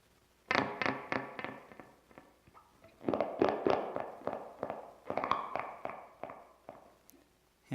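Recorded gannet calls, granular and grainy in texture, come as rapid bursts of harsh rattling clicks in two dense clusters with brief gaps, fairly close and loud with no talking.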